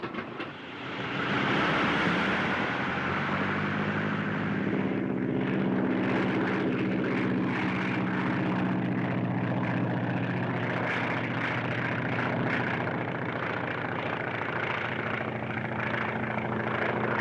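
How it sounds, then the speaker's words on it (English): Propeller airplanes, a pair of 1930s aircraft, drone overhead with a loud, steady engine roar that swells in and holds throughout, with no talk. "Here comes two planes"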